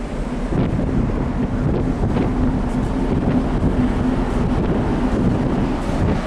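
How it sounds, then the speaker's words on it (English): Strong, cold wind buffets the microphone in a constant roar on a ship's deck off the Tasmanian shoreline, with a low rumble of water and engine underneath. "It's rather cold now and windy."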